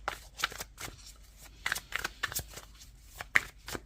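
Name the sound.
tarot cards being shuffled and drawn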